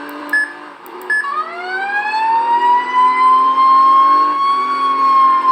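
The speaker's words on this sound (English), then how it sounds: "Turn the siren." A loud fire truck siren in a video game winds up after a couple of brief electronic blips, then holds a steady wailing tone with rising harmonics, heard up close and alone.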